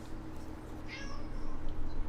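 A pet cat that has just lost a live mouse lets out a single short meow, fairly faint, over a low steady indoor hum.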